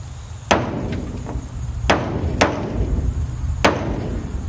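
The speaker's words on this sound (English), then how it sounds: "you can take your chisel, make sure there's nothing on the other side" Chisel hammered through the metal body of a car, four sharp metallic strikes spaced irregularly over steady low background noise, close by and with no talk.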